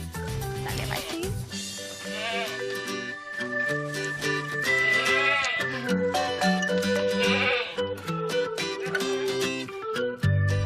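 Senduro goats bleating during hand milking, with repeated loud bleats layered over music and a narrator's voice throughout.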